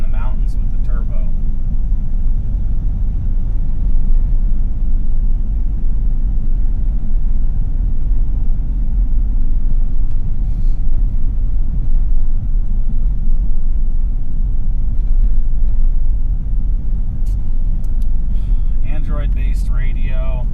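A Mitsubishi Delica turbo van drives along, its engine and road rumble a steady, loud low drone throughout, with faint bits of talk near the start and end.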